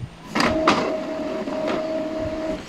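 Epson L3110 inkjet printer running a print job while failing to pull in bond paper, with a couple of sharp mechanical clicks followed by a steady whirring motor hum, close and clear without talk.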